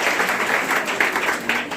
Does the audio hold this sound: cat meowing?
no